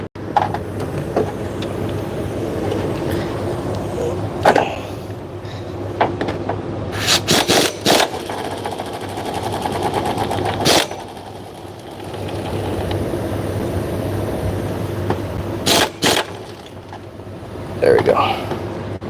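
A Honda alternator pulley clutch spinning in a workshop, giving a steady whirring mechanical drone with a low hum, broken by several sharp clicks and knocks as it tightens.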